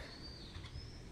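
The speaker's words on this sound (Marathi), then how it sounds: "आता इथे पक्षी पण आहेत बघा" Soft bird calls in the distance, heard from a third-floor balcony, including a thin high whistle and gentle cooing, over quiet outdoor ambience.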